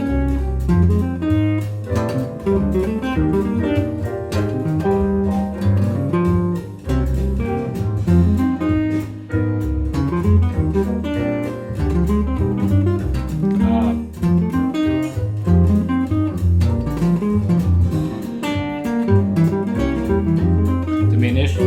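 Jazz guitar plays chord tones over a backing track of a standard, a steady, full-bodied line with bass and accompaniment underneath.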